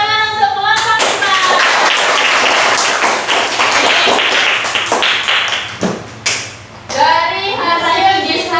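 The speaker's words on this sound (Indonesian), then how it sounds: "Tepuk tangan untuk kelompok 5." Classroom applause for group 5 in a primary school lesson, a loud burst of many hands clapping together that runs for several seconds, dips briefly near the end, with children's voices chattering around it.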